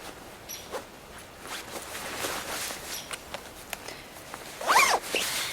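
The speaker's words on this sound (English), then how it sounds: "zip it up." A zipper on a women's waterproof heated winter jacket with a 12V battery pack is pulled up in one quick, close rasping stroke near the end, after soft fabric rustling and handling noises.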